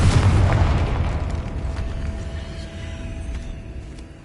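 Confringo explosion spell in a Harry Potter video game: a loud booming blast that bursts at once, then rolls into a fading rumble with a faint lingering tone.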